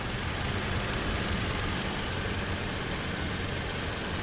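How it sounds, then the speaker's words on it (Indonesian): A steady, continuous engine hum with even low rumble and a broadband hiss, unchanging throughout as a 2005 Toyota Fortuner G petrol automatic idles smoothly nearby. "Ini suara mesinnya masih halus."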